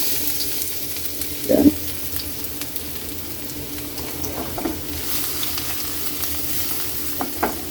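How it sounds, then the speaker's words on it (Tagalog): Garlic fries in hot oil in a wok, giving a soft, continuous sizzle with occasional scrapes and clinks of a utensil; someone speaks a single brief word. "Kaili, mainit yung mantika natin. Lagay na natin yung bawang."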